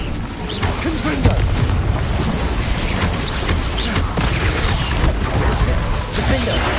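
Confringo spell blasts in Hogwarts Legacy burst amid a loud, dense combat din of booms, crashes and whooshes, layered continuously with other spell effects.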